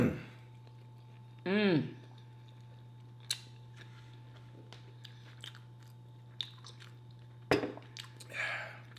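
Close, intermittent crunching bites and chewing of breakfast food at a mukbang, scattered in short bursts between quiet gaps, with brief vocal sounds in between.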